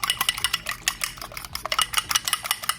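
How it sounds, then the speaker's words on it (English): Eggs beaten with a fork in a bowl for one-pan egg toast: quick, steady clinking and scraping strokes against the bowl, close and continuous, with no talking. "And while that is melting, you're gonna go ahead and beat your eggs."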